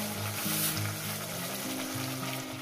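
Oil sizzles and bubbles loudly as very hot water goes into a pan of fried fish curry masala, a dense steady hiss up close with a low bubbling hum underneath.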